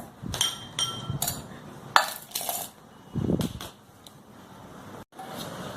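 Chana dal and raw peanuts are washed in a metal pot, giving irregular clinks, scrapes and clatters. The close rattles come in short clusters with brief pauses between them.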